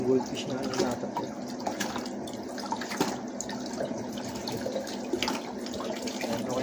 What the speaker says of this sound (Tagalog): Nilagay ko na yung pang-final na tubig.